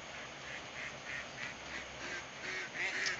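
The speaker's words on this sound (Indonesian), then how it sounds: "Entok dan juga ada beberapa bebek petelur." Muscovy ducks and laying ducks raised on an avocado orchard farm quack repeatedly in a steady chorus, moderately near with a continuous background hum of other birds.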